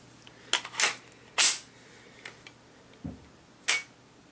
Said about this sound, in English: I know you're not supposed to dry fire, but let's see here